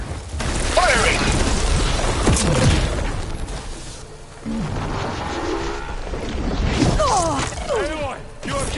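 Gunfire and explosions rumble through a Horizon Forbidden West battle, heavy booms and crashing impacts rising and falling amid machine cries and bursts of character dialogue.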